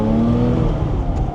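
A Porsche 997 GT3 with a limited-slip differential, heard from underneath as a sustained close mechanical whir and drone with steady tonal harmonics and no voices.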